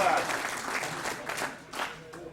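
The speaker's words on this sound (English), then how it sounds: "What about some applause for that?" Audience clapping after a rifle drill display with an SMLE .303, a brief burst of applause that fades within a couple of seconds as voices carry on beneath it.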